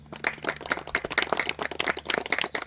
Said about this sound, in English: let's have another little clap, a little louder this time